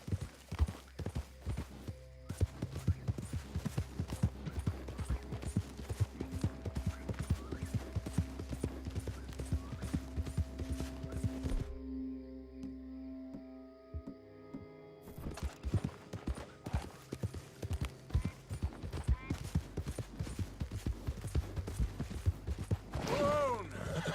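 In the video game Red Dead Redemption II, a horse gallops with steady rapid hoofbeats that pause briefly midway, then resume, along with occasional snorts and harness creaks.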